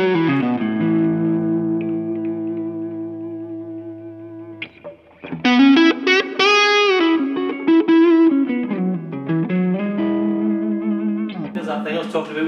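A rare sunburst 1974 Gibson Les Paul Signature electric guitar plays clean sustained chords, then kicks into a loud, dense distorted tone with ringing, saturated notes and chord riffs for the rest of the passage.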